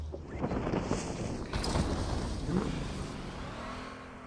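Vehicle engine in the battle royale game PUBG, a steady droning motor with light revving and wind rush, moderately loud and continuous with no talk.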